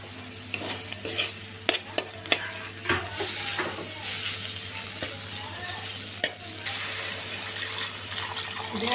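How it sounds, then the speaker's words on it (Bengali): Ginger-garlic paste frying with turmeric in a pan for a jute-leaf and prawn curry, a soft steady sizzle with sharp spoon scrapes and clinks against the pan, nearby and fairly quiet. "আদা রসুনটা দিয়ে ভালো করে কষে নেব।"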